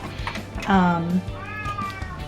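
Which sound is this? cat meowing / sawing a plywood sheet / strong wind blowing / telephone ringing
cat meowing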